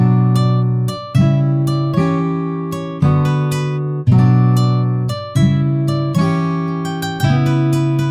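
Sampled vintage-style guitar melody programmed in FL Studio with varied note velocities, plucked notes at a steady pace, each ringing and decaying before the next, loud and clear with no voices.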